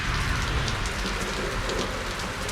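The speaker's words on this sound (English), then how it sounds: "It's constantly pouring." Heavy rain pours down steadily after a week of constant downpour, a dense continuous hiss of drops drumming on surfaces, loud and even throughout.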